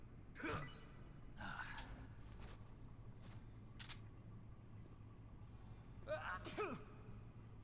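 Johnny sneezing in Metal Gear Solid 3: Subsistence, a few short sharp bursts spread across a quiet, faint background, the strongest near the start and another pair toward the end.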